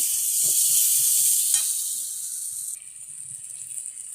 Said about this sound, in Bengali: এখন আমি ভেজে রাখা আলুগুলোকে দিয়ে দিচ্ছি। এক মিনিট একটু নাড়াচাড়া করে নেব।